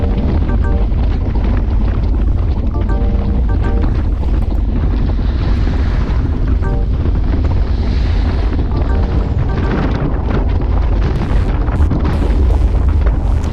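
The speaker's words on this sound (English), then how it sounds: "You can hear the wind there." Strong wind roars across the microphone while cycling downhill on a road in a group paceline ride, a constant loud low rumble with gusty swells.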